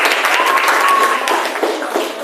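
Applause from students in a classroom, a steady continuous patter of clapping held at one level for about two seconds with no voices over it.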